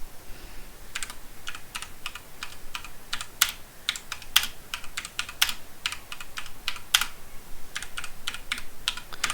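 Rapid, crisp keystrokes on a computer keyboard while HTML code is entered, sharp clicks coming in quick irregular bursts with brief pauses, close and clear with no talking.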